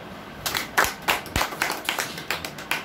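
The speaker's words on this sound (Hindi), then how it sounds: "तालियां बजा दो।" Scattered hand claps from a small audience at an iTRON-world investment meeting, about a dozen distinct sharp claps in an uneven rhythm, fairly close and moderately loud.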